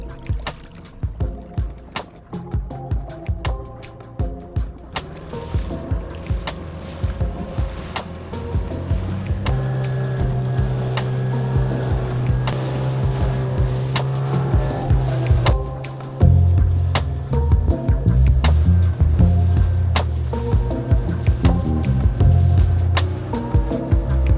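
A small boat cruises around an island off American Samoa, its motor droning steadily over wash and surf, with irregular knocks and thumps of the hull early on and a deeper engine hum building later.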